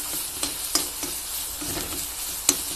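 Curry leaf paste is stirred into a fish curry frying in a pan, a steady sizzle broken by a few distinct scraping strokes and clinks of the spoon, close and clear.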